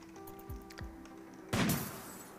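Sniper rifle fire in the video game RimWorld: a few soft clicks and low thumps, then a single sharp, loud shot that rings out and fades.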